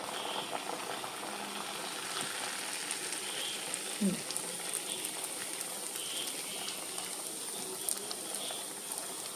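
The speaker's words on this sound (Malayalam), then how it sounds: "നമുക്ക് ഇതിലേക്ക് ഓരോന്നിട്ട് വറുത്തെടുക്കാം." Ney pathiri, a Kerala rice flatbread, frying in hot oil: a steady, fine crackling sizzle runs throughout at moderate level, with a few small pops and no talking.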